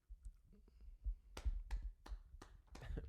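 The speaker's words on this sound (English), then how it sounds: "clapping" A few people on a casual sports podcast clap their hands. It comes as a handful of sharp, quiet claps in loose rhythm, close but low in level, with soft handling noises between them.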